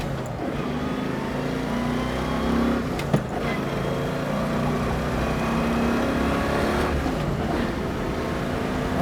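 A 1967 Chevrolet Camaro pulls away, its engine droning steadily with rising and falling tones under road noise, heard from inside the car with a brief knock partway through.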